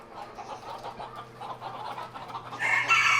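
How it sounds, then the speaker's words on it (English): Hens cluck in a farm coop, joined by smaller roosters, with soft repeated clucking close by that rises into a louder, brighter crow near the end. "in here are the, well, a lot of hens and some smaller roosters."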